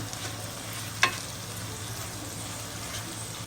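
Spices and jaggery sizzle steadily in a pan over a low flame while beetroot pickle is made, a constant close frying hiss with one brief clink of a spoon or lid.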